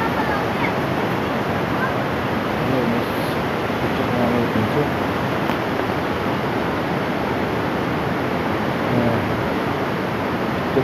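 The Bahuli Khola river in Chainpur, Bajhang, rushes beneath a bridge with a loud, steady roar of flowing water that never lets up, and no voices break through it.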